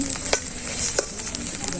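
Rice for white pulao frying in a pot over a village cooking fire, with a steady hiss and sizzle and occasional sharp scrapes and clinks of a stirring utensil against the pot.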